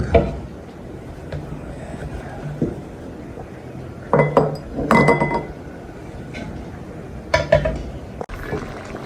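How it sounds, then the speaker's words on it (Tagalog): Eggs being cracked for a Filipino sautéed mud crab sauce with crab fat, heard as several sharp clinks and taps against a bowl in small bursts amid quiet kitchen clatter, with no talk. "Pag-crack ng ating itlog, ayan, ibuhos na natin sa ating sauce ng ating alimango"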